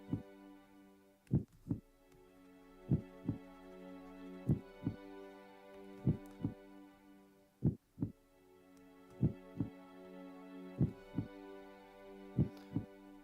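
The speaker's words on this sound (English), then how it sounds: "Heartbeat music goes hard?" A heartbeat-themed music track: paired low thumps repeating at a slow steady pulse over a sustained tonal hum, alone and moderately quiet.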